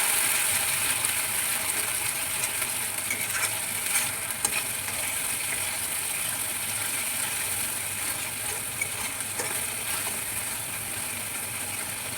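Fish cooking in a pan as onion paste is mixed in, a continuous even sizzle with faint scraping stirs now and then, close and steady.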